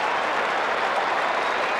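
Stadium crowd at an Australian rules football match, cheering and clapping as one continuous, dense roar throughout. The sound is loud and unbroken.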